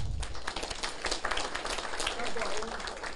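An audience clapping at a political seminar in Taiwan, dense scattered applause that stays steady and close, with voices underneath.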